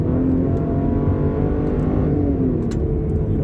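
A Lincoln Aviator engine drones loudly and steadily at high revs after a downshift into second gear from about 70 km/h, a continuous close rumble heard from inside the car.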